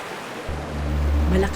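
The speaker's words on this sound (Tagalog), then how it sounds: "Malakas ang agos." A steady low roar of a strong river current, loud and continuous, swelling in after a brief quiet start, flowing close by.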